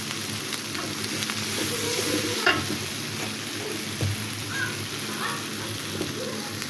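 Spiced masala with a spoon each of ground coriander and cumin sizzling in a pan for chicken curry, a steady close frying crackle with a few sharper clicks from stirring.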